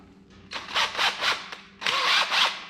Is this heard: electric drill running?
yes